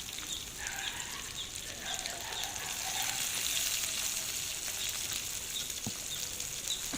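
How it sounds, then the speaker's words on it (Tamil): Sardines frying in oil in a pan, a steady soft sizzle and crackle with scattered small pops, close and continuous with no voices. "இப்போ நல்லா 2 பக்கமும் நல்லா ஃப்ரை பண்ணி எடுத்துக்கலாம்"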